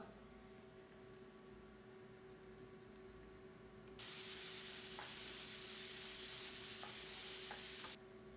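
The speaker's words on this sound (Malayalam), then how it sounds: "വെളിച്ചെണ്ണയിൽ ഇനി വലിയ ഉള്ളിയും പച്ചമുളകും നമുക്ക് വഴറ്റിയെടുക്കാം" Onions and green chilies sautéing in coconut oil, a faint sizzle that swells into a loud, steady hiss for several seconds with a few light stirring taps, then drops back to a quiet sizzle.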